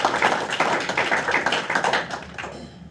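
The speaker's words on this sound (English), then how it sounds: "And give them a round of applause" City council meeting audience gives a round of applause, dense close clapping that runs steadily and then trails off with a few last claps.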